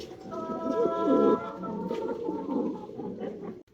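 Fancy Lahori pigeons coo in a close, steady series of soft throaty calls, with other birds softly calling in the background.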